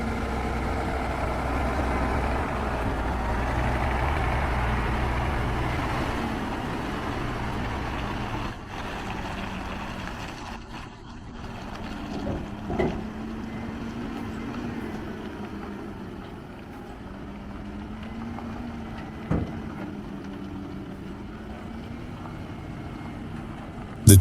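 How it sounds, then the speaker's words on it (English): A Korean semi truck hauling a 330,000 lb load up a steep switchback, its engine a steady heavy drone throughout with a few brief knocks and clunks, no talk. "The truck has made it halfway through this curve."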